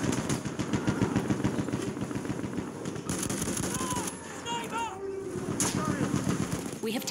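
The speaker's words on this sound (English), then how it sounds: "We have released the pigeon." A released carrier pigeon in Battlefield 1 cooing and fluttering amid rapid machine-gun bursts and battlefield clatter, with a person talking over the noise.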